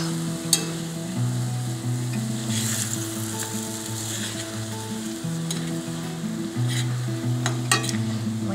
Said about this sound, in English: Now, we want to gently fold this in. I even use my fork here.